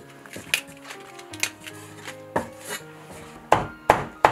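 Pork being chopped into mince with a cleaver on a board: scattered, irregular thuds at first, then three sharp, louder chops close together at the end.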